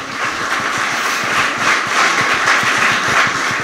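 An audience at a VOX political rally in Tenerife applauds, a steady, dense clapping that stays loud and continuous throughout with no voice over it.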